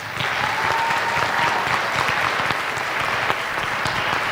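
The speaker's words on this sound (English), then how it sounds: "Please give a nice round of applause for our very own Miss Julie Dewald." A school assembly audience in a hall gives Miss Julie Dewald a loud, sustained round of applause, a dense even wash of clapping throughout.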